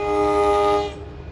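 A train horn sounds loud and close at Princeton Junction station, a sustained harmonic blast that cuts off after about a second and leaves low rail rumble behind it.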